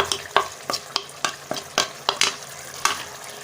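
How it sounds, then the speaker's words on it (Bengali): Spoon stirring ground cumin and coriander into a simmering egg, potato and cauliflower curry, about ten distinct scraping strokes in a quick uneven rhythm, close and fairly quiet, with no talking. "এরপর এগুলো মিক্স করে এক মিনিট আমি রান্না করব ঢাকনা না দিয়ে"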